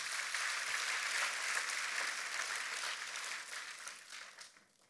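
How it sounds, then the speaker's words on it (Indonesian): Enthusiastic applause from a church congregation praising God during a service, a dense sustained clatter of many hands that carries on for several seconds before tapering off. "Dan tepuk tangannya yang paling meriah buat Tuhan kita"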